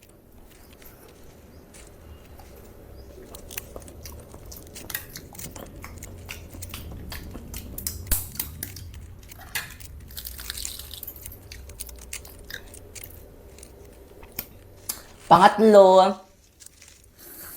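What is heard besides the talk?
eating and chewing food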